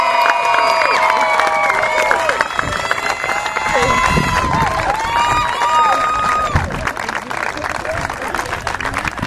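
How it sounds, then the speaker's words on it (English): A crowd applauds and cheers loudly and steadily at a senior day ceremony for a 2015 senior left fielder, with shouts and whoops rising over continuous clapping. "let's give one more round of applause for our 2015 senior left fielder, number 15, Emily Ceccacci"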